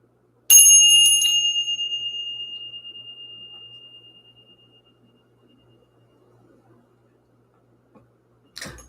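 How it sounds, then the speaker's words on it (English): A single bell struck once to clear the energy, ringing out loud and clear before a long, slowly fading tone that lingers for several seconds; a brief soft sound follows near the end. "Let's ring the bell."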